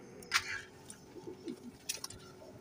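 A male pigeon cooing close by, a few soft low coos with a faint chirp, quiet against light background noise.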